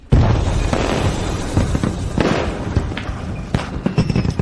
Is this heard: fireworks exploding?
yes